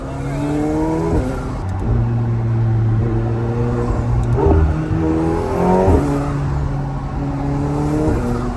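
A loud McLaren 720S engine drones and revs up and down through the gears from inside the cabin at night, with turbo whooshes and whines between shifts.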